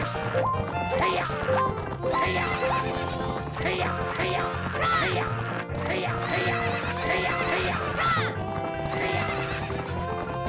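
Horses gallop and neigh in a race in the video game Majora's Mask 3D, with steady clip-clop hoofbeats and repeated whinnies over loud, continuous game music throughout.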